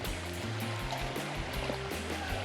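Creek water runs over rocks in a steady, close wash with broadband rushing and a low rumble, continuing evenly throughout without voices.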